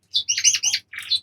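Male Border canaries trill and chirp in quick bright bursts, loud and close, with a brief pause before another burst of song.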